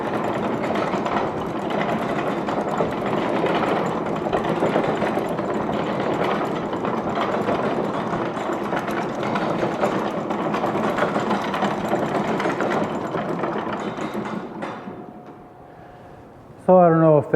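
Smith manure spreader, driven by both wheels, runs with a steady mechanical clattering rumble out on the road, fading away near the end.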